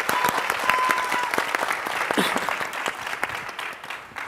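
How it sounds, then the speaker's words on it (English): An audience claps steadily for a guest at a talk event, a dense and sustained round of applause heard close and fairly loud, with no speech over it. "I need another applause for my guest,"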